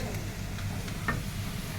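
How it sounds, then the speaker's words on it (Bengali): Onion and garlic frying in a pan for eggplant chutney give a soft, steady sizzle with a low background hum and one brief stirring scrape, fairly faint and with no talk. "ব্যাস, পেঁয়াজ রসুন ভাজা হয়ে গেছে"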